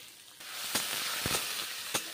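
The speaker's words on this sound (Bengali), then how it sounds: "পেঁয়াজ ভেজে তরকারি রান্না করছি।" Onions fry in a pan for a cauliflower curry, with a continuous close hiss of sizzling broken by a few soft stirring bumps.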